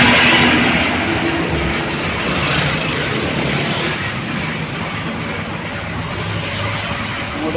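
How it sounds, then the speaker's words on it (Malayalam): The Nilgiri mountain train Neelakurinji climbs uphill near Coonoor with a loud, continuous rumble of engine and wheels that eases slightly as it passes on. "താഴെ നിന്ന് കയറി വരുന്ന ട്രെയിനാണ്."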